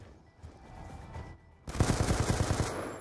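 Gunfire in a shooter video game: a few scattered shots at first, then a rapid, loud burst of automatic fire in the second half.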